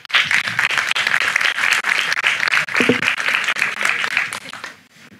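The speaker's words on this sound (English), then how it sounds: "Applause." Dense, sustained applause from a conference audience after a panel on Ukrainian industry. The clapping is steady and loud, then thins and fades out near the end.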